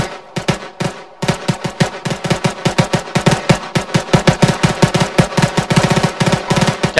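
Sustained automatic gunfire in the military shooter ArmA 3: loud, close, rapid bursts with a brief pause near the start, then a long, evenly rhythmic stream of shots.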